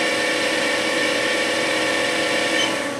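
The spindle of a Haas VF-2SS vertical machining center runs at about 4,000 RPM, producing a steady, loud, continuous mechanical whine and hum with no pauses or speech.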